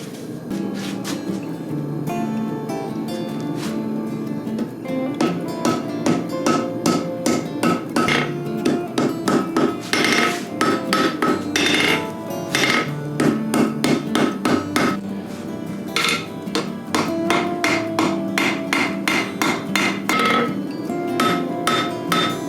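Hammer forging Damascus steel on an anvil, a long run of loud ringing blows in a steady, rapid rhythm, close and dominant with no talk.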